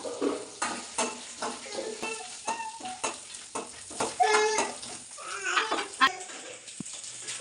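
Peanuts and green chillies fry in hot oil in a pan for bonda, with steady sizzling broken by repeated stirring and scraping clinks of a spoon against the pan.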